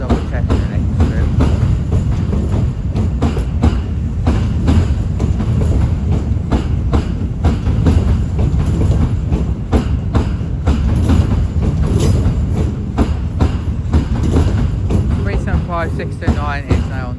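Class 465 electric multiple unit, with 465919 on the rear of a service from Dartford, moving through a London terminus; continuous close rumble with rhythmic wheel clatter, while a voice talks over it.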